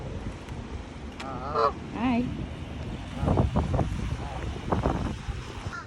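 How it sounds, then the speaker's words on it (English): Strong wind gusts across an open park, buffeting the microphone in steady roaring waves, while geese honk nearby and a voice speaks briefly. "Oh, I hope you can hear me. It's so windy."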